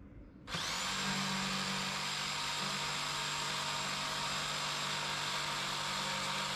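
A power tool cutting out a panel inside a VW T6 campervan starts up abruptly after a moment of quiet, then holds a loud, steady, high whine to the end.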